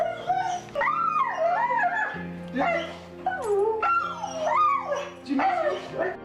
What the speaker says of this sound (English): It's like his dog is telling him all about what happened while he was gone